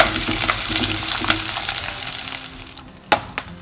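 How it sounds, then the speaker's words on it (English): Ginger, garlic and green chilli sautéing in a clay pot with fenugreek seeds, loud close sizzling and crackling with a few stirring scrapes and clatters near the end. "I'm gonna saute."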